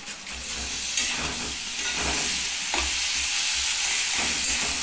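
Tomatoes frying in a pan of spicy sizzling oil, a steady close hiss with occasional stirring scrapes and soft knocks, no voices.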